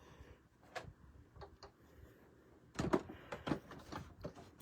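A hand-cranked embossing machine pressing cardstock inside an embossing folder: faint mechanical clicks and thuds, then a louder run of grinding, ratcheting knocks as the plates roll through.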